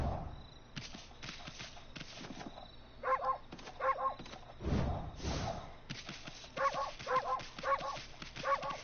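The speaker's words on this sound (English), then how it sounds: "I like how Ammy has a bark button." Amaterasu, the white wolf in Okami HD, gives a series of short, clipped barks in quick clusters, fairly close and distinct over a soft background ambience.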